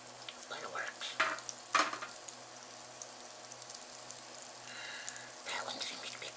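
Pancakes frying in a pan over low heat, a soft steady sizzle close by with a few clinks and light bumps, and faint background sounds.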